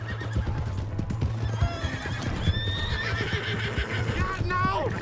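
Horse hooves clip-clopping and a horse neighing in the Red Dead Redemption 2 video game, steady under game music with a whinny rising near the end while voices talk over it.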